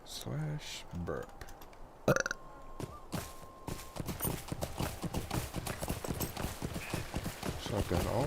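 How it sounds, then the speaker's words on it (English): A character's burp emote from the game LOTRO sounds as a short, sharp belch in the middle, surrounded by clicking keyboard taps and someone talking. "She needs me to burp in her face from a distance."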